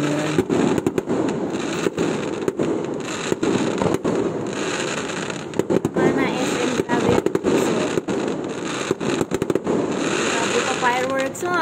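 Fireworks display at an SM mall on December 25, 2024, with sharp bangs and crackling bursts firing in irregular rapid clusters, some whistling rising shots, while people talk nearby.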